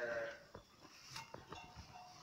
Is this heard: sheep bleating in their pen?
yes